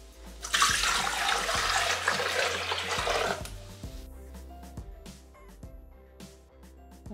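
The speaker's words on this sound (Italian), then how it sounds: "Iniziamo la ricetta mettendo all'interno del boccale l'acqua." Water is poured into a Thermomix jug, a loud splashing gush for about three seconds that then gives way to quieter drips, taps and clinks nearby.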